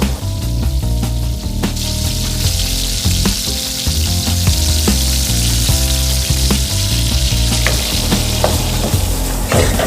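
Chopped tomatoes sizzle and fry loudly in masala for kadhai prawns, a continuous crackling hiss broken by the clatter of stirring against the pan.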